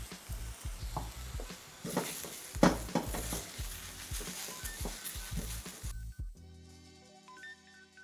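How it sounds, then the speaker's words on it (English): Pak choy leaves stir-fry in a touch of oil in a wok, a loud close sizzle broken by rhythmic tossing and scraping for about six seconds before cutting to quiet. "I added a touch of oil to the wok, and now I'm just gonna do a quick stir fry on the pak choy leaves"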